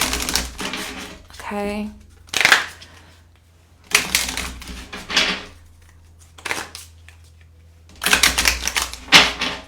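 Shamanic Healing Oracle cards being shuffled, loud crisp riffling bursts in several separate bouts, close up, with a woman's brief spoken remark in between.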